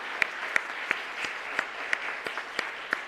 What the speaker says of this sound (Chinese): 我们一起拍手欢迎她